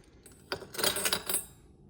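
Metal keys jangle and clink in a key dish in a New York City apartment, a short cluster of bright rattles lasting about a second, close and fairly quiet, with near silence before and after.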